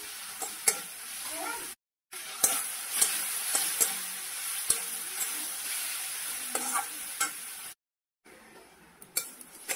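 Onions sizzle and fry steadily in hot oil in a pan, with a spoon scraping and stirring and clinking against the metal, while the sizzle runs continuously and briefly cuts out twice.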